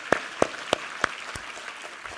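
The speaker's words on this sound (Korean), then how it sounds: "우리 하나님께 감사와 영광의 박수 올려드리겠습니다" A few distinct claps ring out in a church congregation during a Korean worship service, five or six sharp separated hits over a quiet room rather than full applause.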